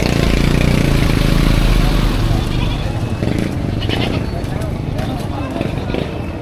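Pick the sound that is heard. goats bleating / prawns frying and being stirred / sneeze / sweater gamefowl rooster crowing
goats bleating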